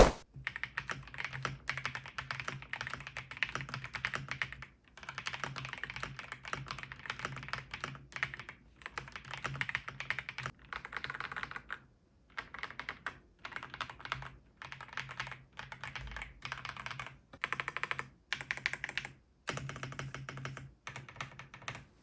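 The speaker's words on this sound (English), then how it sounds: "Let's do a typing test." Rapid typing on a Redragon K719 PRO 96% mechanical keyboard with hot-swappable switches, close and continuous clacky keystrokes broken by brief pauses, no voices.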